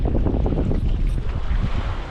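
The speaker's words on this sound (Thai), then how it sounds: "ลมแรงด้วย" Strong wind buffets a boat on the sea while squid fishing near Ko Si Chang, Thailand. Loud, continuous rushing gusts and microphone wind noise fill the clip, with water sloshing beneath.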